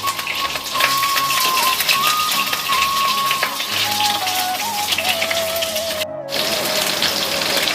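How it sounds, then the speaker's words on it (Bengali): Eggplant pieces fry in hot mustard oil, a loud, continuous rain-like sizzle of bubbling oil close up, with a faint steady tone underneath and a brief gap near the end. "তেল গরম হয়ে গেছে, এবার বেগুনটা দিয়ে দেবেন।"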